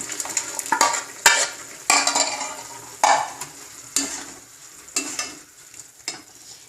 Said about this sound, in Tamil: இப்போ இந்த அரைச்ச விழுத விடுறேன்.